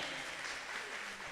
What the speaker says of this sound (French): Des applaudissements pour le collège Catherine Flon